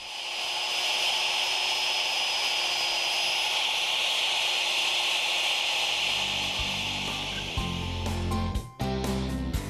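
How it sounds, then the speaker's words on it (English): A handheld router fitted with a slot-cutting bit cuts into wood with a loud, steady high-pitched whine that runs for several seconds. It then spins down into a lower rumble with a few knocks. "we'll use a handheld router with a slot cutting bit in it, sometimes referred to as a kerf cutter"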